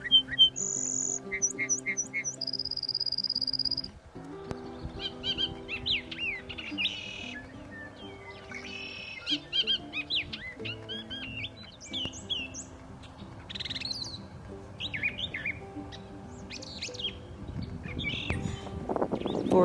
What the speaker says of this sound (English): Birds are singing at the top of their lungs looking for a mate.